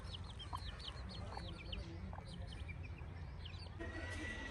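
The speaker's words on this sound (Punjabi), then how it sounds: "ਗਵਾਡੀਆਂ ਸਾਡੀਆਂ ਦੀ ਮੁਰਗੀ ਤੇ ਮਾਸ਼ਾਅੱਲਾ ਬੱਚਿਆਂ ਨੂੰ ਵੇਖ ਆਪਣੀ ਬੁੱਕਲ ਦੇ ਵਿੱਚ ਲੈ ਕੇ ਬੈਠੇ ਕੁੰਝ ਕੇ" A village hen in Pakistani Punjab sits with many chicks tucked beneath her and gives soft, faint clucks, while high chick peeps chirp repeatedly over a low background hum.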